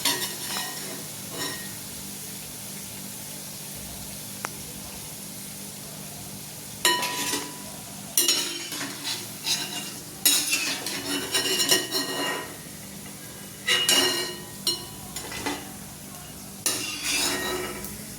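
Onion and corn bhaji fry in a pan of oil with a soft, steady sizzle, then a spoon scrapes and clinks against the pan in several sharp bursts as the fritters are lifted out.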